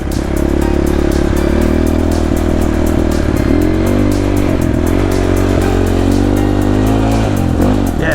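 A Fit Right DB003 40cc mini-bike engine while being ridden at a campsite: a loud, steady buzzing drone close by, with small pitch shifts as the throttle varies, continuous throughout and without talk.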